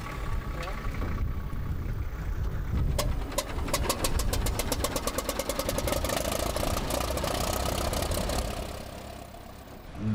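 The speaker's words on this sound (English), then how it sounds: "how he fires up his 1927 McCormick Deering in the heart of Texas" A 1927 McCormick Deering tractor engine fires up on a Texas farm, its rapid, loud, even popping running steadily up close over a rumbling background until it fades slightly at the end.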